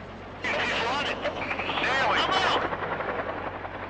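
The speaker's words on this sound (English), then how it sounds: "Included in the Red Force are Mi-17 Hiplite and Mi-8 attack" Mi-17 and Mi-8 military helicopters drone with a throbbing rotor sound while a voice talks over the noise.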